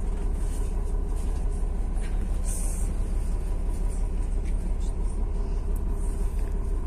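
A bus engine rumbles steadily from inside the moving vehicle, a constant low drone filling the whole stretch with no pauses, heard close and fairly loud.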